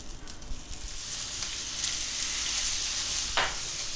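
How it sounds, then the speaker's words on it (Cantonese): Pork chops fry in melted butter in a wok over medium-high heat, giving a steady, close sizzle throughout with a brief sharper crackle near the end and no talking. "我哋燒熱個鑊，中大火燒溶啲牛油，跟住我哋先煎熟啲豬扒先。"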